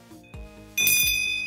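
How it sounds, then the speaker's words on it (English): A brass pentacle bell rung once, a bright metallic strike with a shimmering high ring that sustains and slowly fades, preceded by a couple of soft knocks. "we have the brass bell, the pentacle brass bell"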